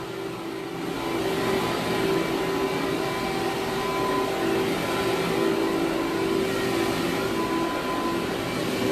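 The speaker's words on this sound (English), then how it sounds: "do you see why I chose this vacuum?" Vacuum cleaner pulling dry soil from a carpet, a steady whining drone with a strong tonal hum that starts up after a second and runs evenly, fairly faint, with no talk.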